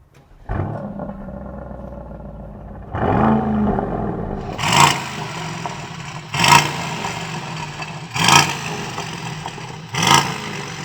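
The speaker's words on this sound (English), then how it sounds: "Now let's have a listen to what noise you can make with these cars when you rev them at a standstill." Aston Martin DBX 707 engine starting, then revved hard several times at a standstill, each blip rising to a loud roaring peak and falling back to idle, close and alone, with no talking.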